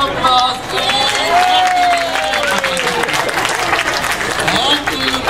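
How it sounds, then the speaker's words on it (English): A crowd at the Phil Fest 2013 festival breaks into applause and cheering, a loud continuous patter under a voice talking and calling over the top for most of the stretch. "Let's give Angelina a round of applause."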